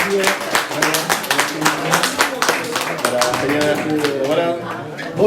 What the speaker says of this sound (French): on peut applaudir encore une fois